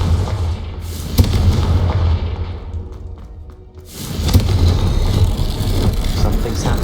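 Confringo spell blasts in the Hogwarts Legacy video game: loud, sharp booming explosions with deep thuds, one burst early, a brief quieter lull, then another heavy impact and rumbling aftermath.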